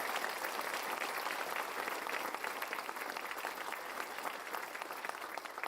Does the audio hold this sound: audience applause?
yes